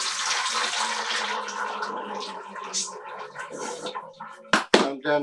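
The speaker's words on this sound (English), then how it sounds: "I have my old couscous pot here, and I will put hot water in it" Hot water is poured into an old couscous pot, a gurgling, splashing stream that runs for several seconds and then ends in a few sharp sloshes, with a brief spoken phrase partway through.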